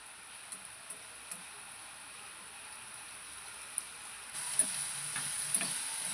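Grapes being stirred and cooked in a pan give a soft, steady sizzle with a few light scraping taps, growing a little louder partway through, with no talking.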